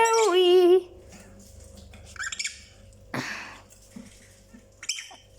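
A budgie parakeet gives a loud warbling chirp up close, then a few faint, scattered squeaks and rustles follow in a quiet room, with no talk.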